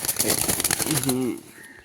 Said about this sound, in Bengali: খুব ছটফটে কবুতর